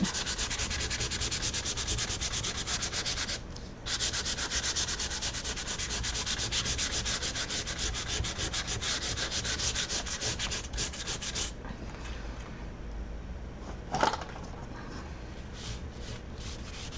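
Sandpaper rubs steadily over a surface during a craft session, a fast rhythmic scratchy rasp that runs continuously and close up, with a brief pause and a short clunk near the end.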